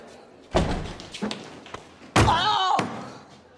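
A door slams shut with a sharp, loud bang, followed by a second impact and a brief ringing rattle after the hit, in an indoor room with people talking around it.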